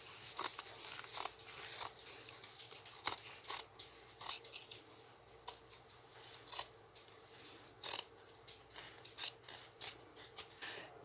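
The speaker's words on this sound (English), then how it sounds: "Then you cut the hem off." Scissors snipping the worn hem off old denim jeans, a steady series of crisp, crunchy cuts close by over a faint background, with no talking.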